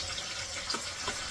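Cold water is poured into cooking dal, making a close, continuous splash and gurgle of liquid with small bubbly accents.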